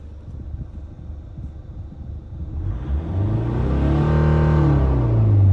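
A car engine set up with an electronic throttle idles with a low rumble, then revs up and holds high, loud and close, its droning tone climbing as the revs rise.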